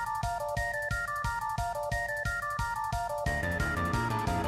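Synthesized music from Final Fantasy VII, with a stepping melodic line over a steady beat, then a fuller section with brass-like tones, strings and bass, continuous and fairly loud.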